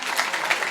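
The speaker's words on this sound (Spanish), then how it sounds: "alguien aplaudió" A brief burst of clapping from a congregation during a Spanish-language church sermon, a dense patter of hands at moderate volume lasting under a second with no voice over it.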